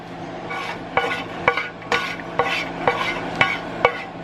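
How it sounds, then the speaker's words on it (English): Two tablespoons of butter stirred in a pan as it melts: a steady run of spoon scrapes and light clinks against the metal, about one every half second, close and clear with no talk. "Okay, so we're gonna just mix this. Let it melt."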